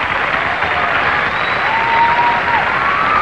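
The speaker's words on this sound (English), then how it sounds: "I'm glad you guys are clapping about that" Dense, loud applause from a stand-up comedy audience, steady and unbroken throughout, with crowd noise filling the room.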